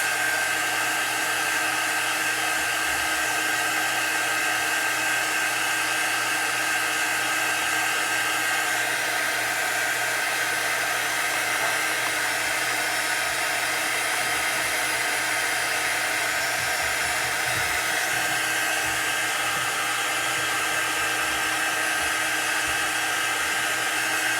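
Hair dryer blowing continuously at close range to dry chalk paste on an etched butterfly craft surface, a steady whirring hum with no pauses.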